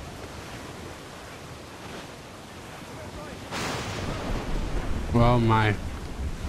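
Rough sea waves in Assassin's Creed Black Flag make a steady broadband wash that swells louder midway, with a brief voice rising over the surf near the end.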